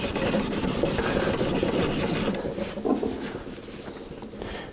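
A spokeshave blade is honed on an extra fine sharpening stone, giving a steady, close scraping rasp of repeated strokes at moderate loudness.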